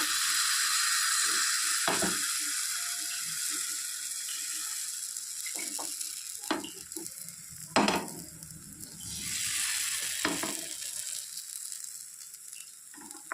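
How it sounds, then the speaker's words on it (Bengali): Sweet coconut filling cooking in a hot pan as patishapta crepes are made, swirled and turned by hand; a soft sizzle with scattered scraping and knocking sounds, and no talking. "এবার একটু নাড়িয়ে দেব হাত দিয়ে ঘুরিয়ে ঘুরিয়ে এভাবে"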